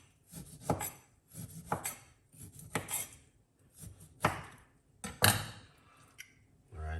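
A knife cuts the skin off a lemon in six or seven separate strokes, each a short crisp scrape-and-tap against a board, close and clear with quiet gaps between.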